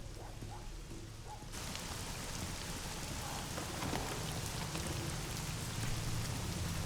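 Steady rain falls as a dense, even hiss that swells in after a quieter opening, with faint thunder-like rumble underneath and no voices.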